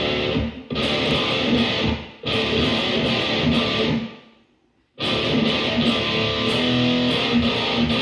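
Loud, distorted electric guitar strums the choppy second-verse rhythm of a song, with dense chord bursts broken by sharp stops and a near-silent pause before the strumming resumes.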